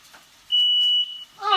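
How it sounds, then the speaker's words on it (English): A kitchen smoke alarm set off during cooking gives a single piercing, steady high beep lasting under a second, then a voice starts up over the end. "we got the fire alarm off"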